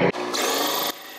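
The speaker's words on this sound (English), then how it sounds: "Just took some time to drill through these and get them all done." A power drill bores through a composite camper subfloor near the rear wheel, one loud sustained whine of about a second grinding through the material before it cuts off, close and alone.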